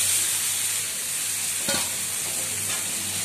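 Fried okra stirred into a sizzling tomato masala in a pan gives a constant hissing fry with a couple of soft scraping strokes of the spoon, close and moderately loud, without any talking.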